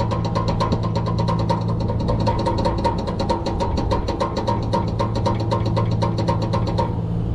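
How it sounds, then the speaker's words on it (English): A commercial HVAC fan motor with failed bearings and a bag wrapped around its shaft, running with a loud, steady hum and a fast, rhythmic knocking rattle, close up and constant the whole time. "The bearings are gone in that motor."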